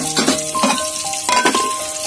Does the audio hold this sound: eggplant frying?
yes